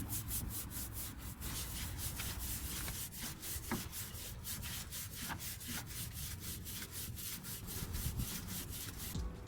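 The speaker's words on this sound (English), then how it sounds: "We're going to let it sit for about 10 minutes, and now we scrub." Brisk scrubbing strokes on a boat's wooden companionway soaked with cleaner, a steady rhythmic rasp of bristles on wet wood continuing close and loud for the whole stretch.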